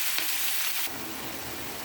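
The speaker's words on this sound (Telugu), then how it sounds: "ఆనియన్స్ మగ్గిన తర్వాతకి పాలకూర వేసుకుందాం. కలుపుకోవాలి. పాలకూర కూడా మగ్గించుకోవాలి." Spinach and onions cook in a pan with a dense, continuous sizzle and frying hiss, close and steady, and the sound thickens partway through as the greens are stirred, with no voices.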